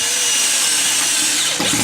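Power drill driving self-tapping screws into a fuel tank plate on an RV, a steady close whine that holds for the whole moment and then dips briefly near the end.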